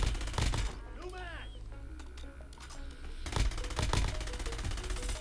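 Gunfire in the video game Warzone: sharp bursts of rapid automatic fire crack out in two clusters with a quieter gap between, and game sounds fill the space around them.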